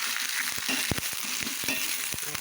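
Drumstick curry frying in hot oil, a steady close sizzle broken by scraping ladle stirs against the pan.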